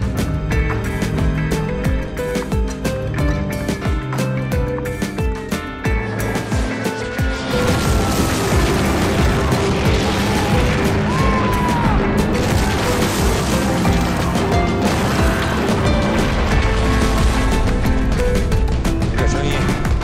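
Heavy artillery shells over 150 mm explode in a battle zone on a canal's south bank, the loud booms and crashes rolling almost continuously and mixed with dramatic background music.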